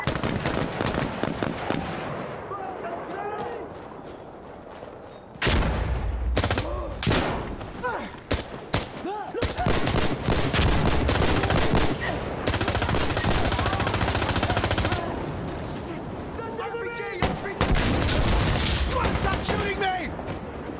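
Rapid automatic gunfire and single shots from an Insurgency Sandstorm firefight crackle in loud bursts, with pauses between volleys and players talking over the shooting.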